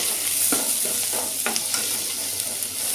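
Tomatoes sauté in a pan for a potato milk curry, a steady bright sizzle with several soft scraping stirs at irregular intervals, close by and with no voices.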